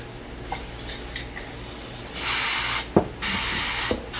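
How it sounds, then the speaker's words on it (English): Adhesive sticker remover is sprayed onto a microfiber towel in a few short hissing bursts, close and fairly quiet, with light rubbing and handling noises between them and no talk. "You want to spray the towel or the rag, the microfiber rag, and not the LCD screen itself"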